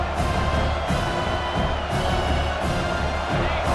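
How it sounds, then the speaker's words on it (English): A stadium crowd in the College Football 26 video game roars continuously, a dense, loud wash of cheering that swells slightly without pause. "The roar of the crowd trying to fuel this defense to keep them pinned in their own end"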